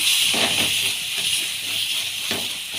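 Ginger garlic paste frying with cooked tomatoes in a pan for paneer chilli masala, a loud steady sizzling hiss filling the whole moment, with faint stirring pulses underneath.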